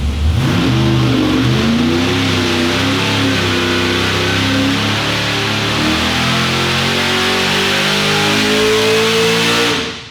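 A car engine on a dynamometer pull, revving loud and continuous with a steadily rising pitch over about ten seconds before cutting off at the end.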